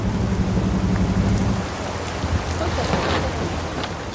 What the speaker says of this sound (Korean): 며칠 뒤 날씨가 조금 풀렸나 했더니 비가 내린다.